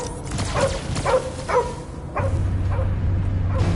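Dog Cosmo barking and yipping in the video game Guardians of the Galaxy, five or six short sharp barks over a rumbling game soundscape, with a low hum rising in the second half.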